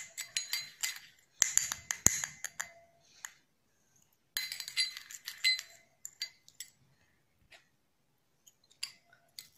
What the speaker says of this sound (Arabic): كل المكونات دي بقى تتخلط مع بعض كده